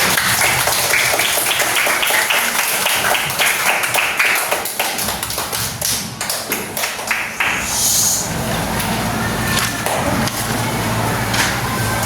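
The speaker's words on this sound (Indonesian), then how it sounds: "Beri aplaus untuk kelompok pertama" Classroom applause for the first group of students, a dense stretch of many hands clapping at once that carries steadily through most of the clip, with a brief dip partway and a little background noise, no talk over it.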